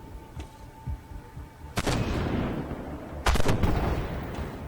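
Tank cannon fire in the video game Armored Warfare during city fighting: two loud, sharp blasts about a second and a half apart, each with a long rumbling decay over steady background battle noise.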